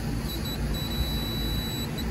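A multimeter gives a thin, steady, high continuity tone while testing across HVAC compressor terminals, faint and sustained with a brief break.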